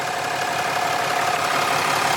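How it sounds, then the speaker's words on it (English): A diesel engine of a 5th-generation Cummins truck idles steadily up close after a CP4 to CP3 fuel pump conversion, a continuous low rumble with a faint knocking texture and no voices. "Your engine sounds quieter"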